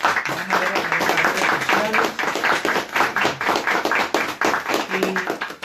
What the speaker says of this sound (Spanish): yo quiero que le demos un fuerte aplauso a todas las personas